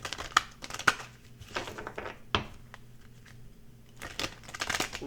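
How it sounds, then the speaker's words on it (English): Tarot cards being pulled and shuffled by hand, soft papery riffles and crinkles in scattered bursts, close and fairly quiet, with no talking. "Let's pull some cards on."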